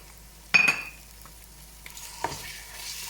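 Coarse minced meat and softened onions get stirred in a frying pan: one sharp scraping, sizzling stroke up front, then a quieter sizzle with a few soft clinks, heard close with no talking.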